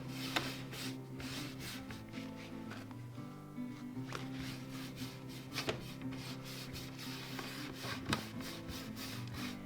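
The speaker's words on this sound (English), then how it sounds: "I'm gonna add white wax to the piece. It just kind of lightens it and gives it extra texture." White wax is rubbed by hand onto painted furniture in soft, repeated strokes, a quiet scratchy brushing rhythm with a low hum beneath and a few sharper scrapes, no voices.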